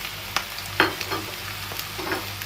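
Young liang leaves fresh from the garden are stir-fried with egg, chili, oyster sauce and light soy sauce, the spatula scraping and tossing in quick irregular strokes over a low steady sizzle, close and fairly loud.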